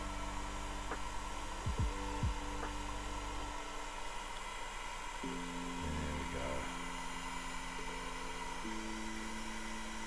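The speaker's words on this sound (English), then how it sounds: "Let's blast this with the old heat gun." Heat gun blowing steadily on a painted Warhammer 40k miniature, a constant airy whine with tonal hum that continues throughout, briefly interrupted by a couple of short clunks, with no speech.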